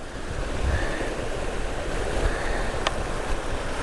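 River water flows near a bridge crossing on a mountain route toward Jerusalem. The rushing is steady and even, at moderate loudness, with no talking.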